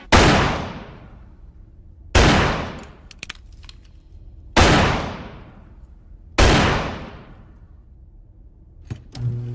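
Four loud, sharp gunshots ring out about two seconds apart, each with a long decaying echo, with small clicks between them.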